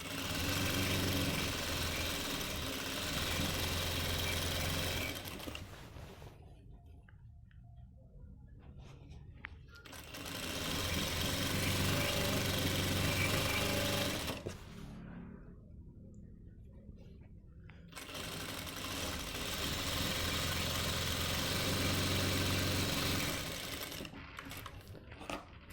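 A sewing machine stitching men's trousers runs in three long, steady whirring bursts, each about five seconds, with quiet pauses between them, close and clear with no talk.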